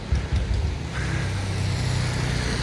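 A veteran car on the London to Brighton run, passing through Clapham, gives a steady low engine rumble close by that holds for a few seconds, with faint street noise around it and no talking.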